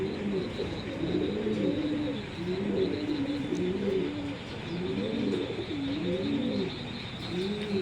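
Racing pigeons, a pair of top-quality racers, coo steadily and repeatedly at close range, their low rolling calls overlapping in a continuous rhythmic chorus with a few faint chirps, and no voices.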